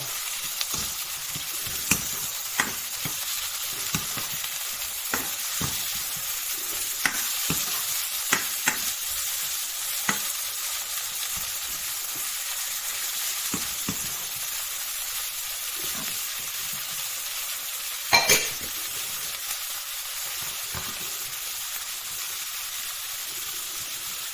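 Shrimp stir-fried with curry powder in a hot pan, a steady loud sizzle and hiss throughout with scattered scraping stirs and one sharper clatter near the end, no voices.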